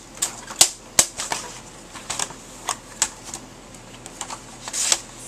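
Paper being cut to size for a Tim Holtz folio, a series of short, crisp snips and slicing strokes at close range with brief quiet gaps, no talking.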